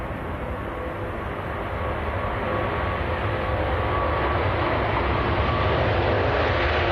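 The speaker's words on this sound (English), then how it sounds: "here comes the Qatar A380 going out to Doha" A Qatar Airways Airbus A380 departs Manchester Airport for Doha, its engines a steady, broad roar that swells slightly over several seconds, distant and continuous with no voices.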